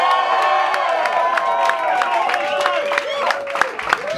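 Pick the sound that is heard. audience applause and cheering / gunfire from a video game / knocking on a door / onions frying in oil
audience applause and cheering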